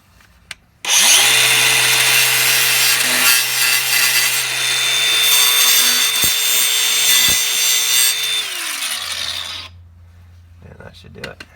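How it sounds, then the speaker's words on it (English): A power grinder whines loudly and steadily as it grinds down a metal ridge for a bump stop on a fourth-generation F-body, starting abruptly and running for several seconds before spinning down. "I have a little bit of a ridge right here, so I'm just going to grind that down a little bit."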